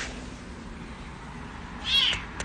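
A cat meows, one clear higher-pitched call near the end over a steady low background hum, the rest of the stretch quiet apart from that noise.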